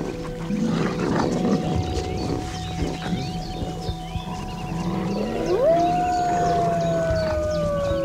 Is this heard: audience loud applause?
no